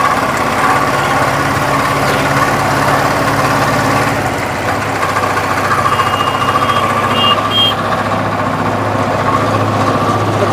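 A homemade trolley vehicle's engine running steadily just after starting, a loud, continuous low rumbling drone with vibration that holds through the whole stretch, no speech.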